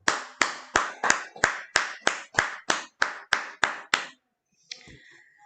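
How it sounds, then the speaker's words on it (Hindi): An audience claps together in a steady rhythm, about a dozen sharp, evenly spaced claps close by, then stops abruptly, leaving a brief faint rustle. "इन लोगों के लिए एक जबरदस्त तालियां होनी चाहिए"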